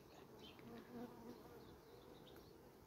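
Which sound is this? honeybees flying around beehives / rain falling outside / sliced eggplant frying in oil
honeybees flying around beehives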